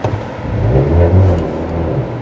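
A manual Hyundai Veloster N hatchback's engine revs loudly and steadily nearby, a deep rumbling drone that swells slightly and then settles.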